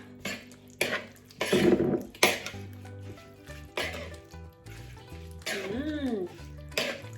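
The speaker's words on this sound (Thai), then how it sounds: "แล้วก็คนส่วนผสมให้เข้ากันนะคะ" Shrimp and wing bean salad ingredients being stirred together in a bowl: light clinks and scrapes of a utensil come in short, uneven bursts, close and fairly soft, with brief vocal sounds in between.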